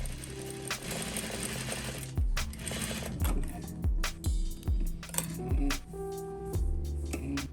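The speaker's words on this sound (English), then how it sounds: "Set your sewing machine to the gathering stitch to the max" A sewing machine runs a gathering stitch along ruffle seams with a steady fast mechanical chatter and rhythmic thumping pulses, close and continuous, plus light clinks as it stops and starts.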